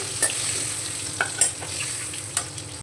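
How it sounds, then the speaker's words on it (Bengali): Young jackfruit pieces sizzling in hot oil, a steady close fry with a few sharp scraping stirs of a utensil against the pan, no voices. "এইভাবে আমি বাকি এঁচোড়গুলো ভেজে নেব।"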